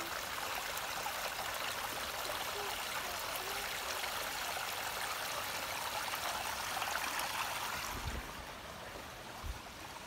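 A woodland creek in Ridley Creek State Park flows with a steady, broad rushing and trickling that stays fairly close, then drops a little quieter near the end, with a couple of soft low thumps.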